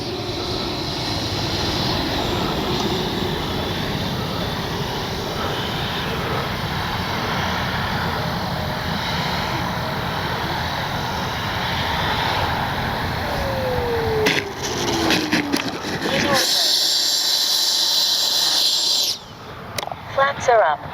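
An FMS Avanti S 90mm electric ducted-fan RC jet flies over a grassy field. Its steady, loud whooshing roar holds for most of the time, then swells and fades as the jet passes. Wind buffeting and a voice are heard near the end.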